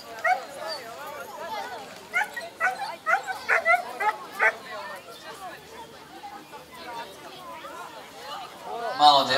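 A large dog barks in short bursts at an outdoor dog show, with crowd chatter and babble running underneath throughout.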